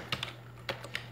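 Code is typed on a computer keyboard, giving a few quiet, close key clicks spaced unevenly over a steady low electrical hum.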